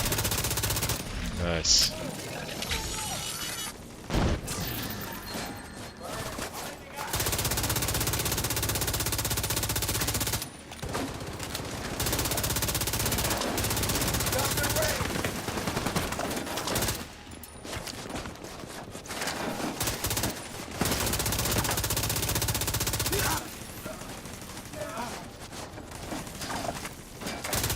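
Heavy automatic gunfire in The Division 2 rattles in long sustained bursts separated by short pauses, loud and close, with a brief spoken word over the shooting.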